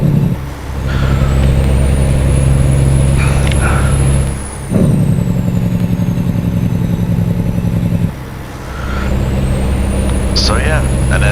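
Heavy truck engine droning steadily while hauling an oversized Doosan DL420 loader in American Truck Simulator, with gear-change dips and rising whine between shifts, loud and close, under someone talking.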